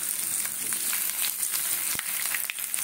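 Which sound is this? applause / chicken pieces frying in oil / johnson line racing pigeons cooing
chicken pieces frying in oil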